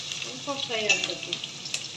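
Small onions frying in a pan for a spicy fish curry, a steady sizzling hiss throughout with faint stirring scrapes, close and moderately loud, with a brief voice partway through.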